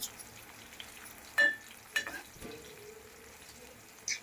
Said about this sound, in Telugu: ఇలా బాగా ఫ్రై చేసుకోవాలి ముక్కలు, గోల్డెన్ బ్రౌన్ కలర్ వచ్చేలాగా.